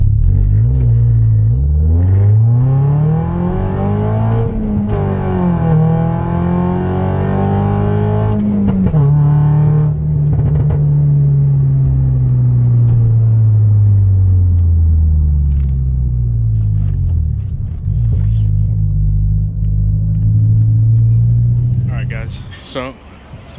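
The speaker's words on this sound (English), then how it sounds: "So I took the car for a quick drive." Car with a GGP E210 rear motor mount installed, driving with traction control on: a loud, close engine drone rising and falling through revs and gear changes, with steady rumble underneath throughout.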